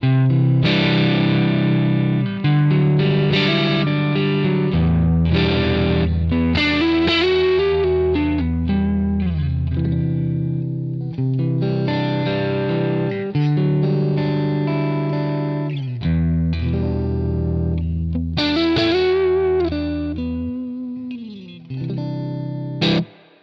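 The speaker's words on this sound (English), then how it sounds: "Again, I'm using my Strat. I'm on the neck pickup." A Stratocaster electric guitar on the neck pickup, played through an amp capture, plays chords and melodic lines with a distorted tone and warm, rounded character, loud and continuous.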